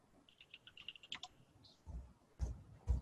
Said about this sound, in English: I heard somebody typing something.